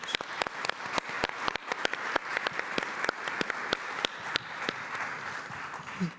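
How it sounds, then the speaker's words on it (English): An audience at a pension policy forum applauds the winners, with scattered, uneven claps that stay steady and fairly close before tapering off. "So one more round of applause for the winners."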